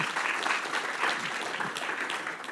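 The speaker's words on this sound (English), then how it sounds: "he needs a round of applause" A round of applause from a live audience, soft and distant, a steady wash of many hands clapping that holds evenly for a couple of seconds.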